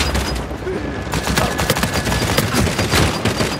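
Dense, continuous gunfire from an Uncharted 4 multiplayer match, with sniper shots among rapid overlapping bursts and booms, loud and close throughout.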